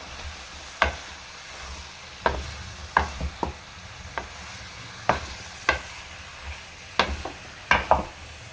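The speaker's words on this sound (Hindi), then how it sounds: "आलू गोभी मटर मज़े की सब्ज़ी ये डाल दी मैंने।" Potato, cauliflower and peas added to a hot masala for aloo gobhi matar, a low steady sizzle beneath repeated sharp scrapes and clinks of a spoon stirring, about a dozen strokes in uneven rhythm, close up.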